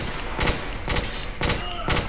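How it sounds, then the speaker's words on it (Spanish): Four loud gunshots from the video game The Order: 1886, evenly spaced about half a second apart, each a sharp broadband burst over a steady game background. "Todos esos disparos apenas han dado"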